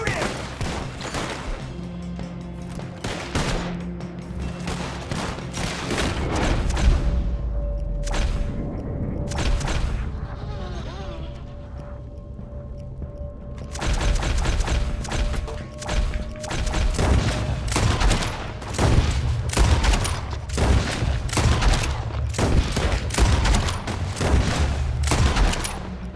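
Video game Red Dead Redemption 2 gunfight: dense volleys of close, loud gunshots crack in rapid, irregular bursts for most of the time, with a short lull midway and shouted voices in the mix.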